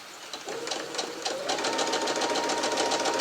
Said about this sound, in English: So this time I'm just stitching on the line